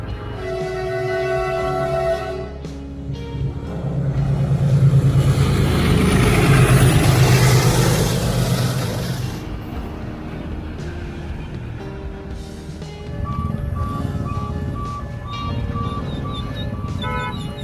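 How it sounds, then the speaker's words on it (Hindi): A heavy freight train rumbles past a closed railway crossing at close range, a broad roar swelling in the middle and easing off, with a steady two-tone warning signal sounding throughout. "फाटक बंद है, मालगाड़ी जा रही है।"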